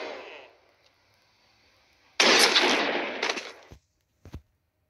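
Gunfire in the Granny 3 video game: one loud sustained burst of shots after a quiet stretch, then a couple of short sharp reports, with no talking over them.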